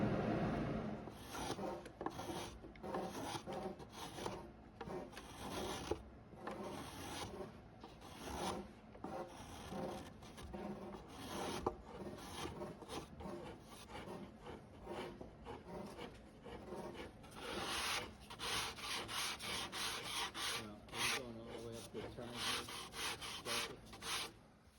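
A wooden form for strip-planking a Little Auk 11 boat has its edges beveled by hand, giving steady, rapid rasping strokes that repeat without pause, close and fairly loud, with no talking.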